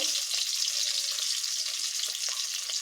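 Two green chillies hitting hot oil in a kadai, tempering for a wax gourd and mourola fish dish, give off a steady, close sizzling hiss that runs unbroken with faint crackles and no talk.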